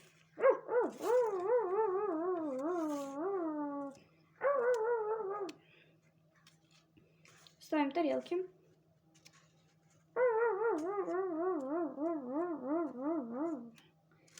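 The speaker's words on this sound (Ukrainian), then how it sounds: "Хватит гавкать." Several dogs howl and yowl in long, wavering bursts before feeding time, separated by pauses, while a person talks nearby.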